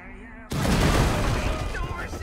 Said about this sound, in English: I'm going to throw one of these grenades right here, and I'm hoping to ignite off this fuel can